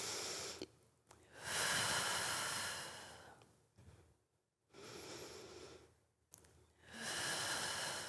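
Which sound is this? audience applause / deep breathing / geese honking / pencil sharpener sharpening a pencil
deep breathing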